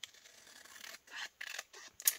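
Scissors snip through printed paper at close range in a series of short, crisp cuts and slides, fairly quiet, with no voices.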